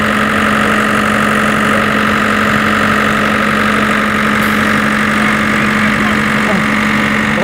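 A concrete pump's engine runs steadily at a construction site at a ballpark, giving a loud, continuous idling drone with a constant hum and no break.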